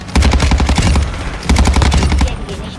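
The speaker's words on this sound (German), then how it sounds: "Ich höre immer noch Schüsse" Rapid automatic gunfire from the Warzone DMZ video game, two loud sustained bursts of repeated shots close by, with a brief pause between them and no talk.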